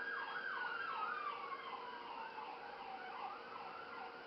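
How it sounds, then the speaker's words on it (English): An ambulance siren wailing up a highway, its rising and falling cycle repeating steadily, distant and faint under a constant road hum, with no talk. "There goes another ambulance up the highway right now."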